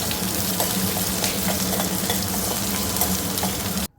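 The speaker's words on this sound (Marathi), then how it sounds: "त्यानंतर त्यात घालते लसूण, आलं आणि कांदा. यांना हलकंसं फ्राय करून घेते पहिले" Garlic, ginger and onion fry in hot oil in a wok with mustard seeds and cumin, a steady close sizzle running throughout with faint stirring scrapes, no voices.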